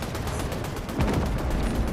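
Rapid gunfire from the Fortnite video game, a dense continuous burst of repeated shots that grows louder and heavier partway through, with no talking.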